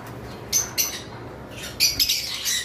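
Cockatiels and lovebirds at a bird farm, including an albino cockatiel breeding pair, let out several sharp, close squawks in short bursts, with quieter chatter in between.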